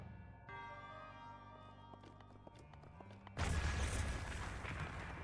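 A Breath of the Wild explosion bursts in suddenly after a stretch of tonal game music, a loud broadband blast that lingers as a dense rumbling wash to the end.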